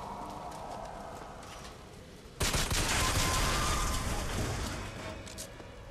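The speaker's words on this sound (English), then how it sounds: "This is a really fast firing pistol." Rapid pistol fire in the video game BioShock Infinite, a quiet opening that gives way abruptly to a fast, dense burst of shots, close and loud, then gradually thinning toward the end.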